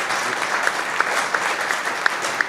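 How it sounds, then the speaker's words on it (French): Audience applause for three speakers after talks at a heat pump event, a steady close burst of many hands with a few distinct sharp claps standing out. "On peut les applaudir, je pense."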